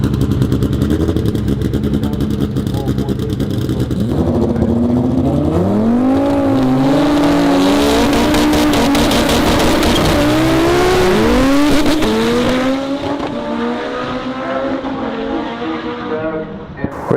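A methanol-fuelled four-to-six-cylinder turbo drag racing car on fat tires accelerates hard at Mantorp, Sweden, its loud engine climbing through rising revs with gear changes before the roar fades away.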